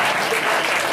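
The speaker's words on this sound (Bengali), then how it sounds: "হাততালি" Applause from an audience at a coaching centre cultural programme, a dense burst of many hands clapping, loud and close, lasting under a second.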